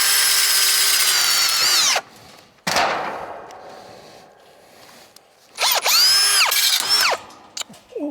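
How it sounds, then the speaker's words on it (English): A power drill whirs at high speed in two bursts, close and loud, with a quieter gap of rattling and handling between them. "I just broke a drill bit being stupid."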